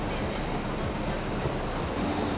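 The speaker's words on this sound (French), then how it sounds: "Bon, je suis dans un métro." An airport metro train in motion, a dense steady rumble of wheels and carriage noise with faint rhythmic clatter, heard from inside the car.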